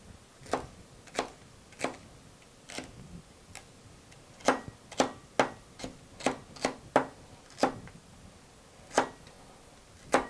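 Knife chopping tuna salad ingredients into small pieces on a board, giving crisp, irregular taps that come closer together and more steadily in the middle, with no talking.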